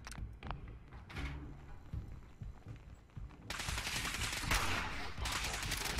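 Sniper rifle fire in Fallout 4 combat: several sharp cracks at the start, followed by a dense, loud burst of overlapping gunfire in the second half.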